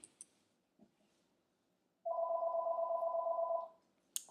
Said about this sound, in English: And that's the phone.